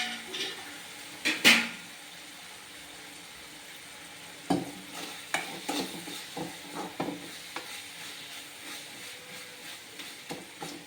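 Tomatoes sautéing in a pan for a vegetarian egg-style curry, with a faint background sizzle broken by scattered scrapes and clinks of a spoon stirring against the metal pan, close but quiet.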